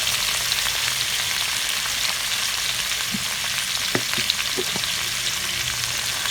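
Chicken frying with a spice paste in a pot for biryani, a dense continuous sizzle up close, with a few faint spoon taps as it is stirred.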